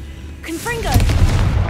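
The Confringo spell blast from the Hogwarts Legacy video game erupts as a loud, rumbling burst with gunfire-like cracks, preceded by brief magical tonal sweeps. It rolls on heavily to the end.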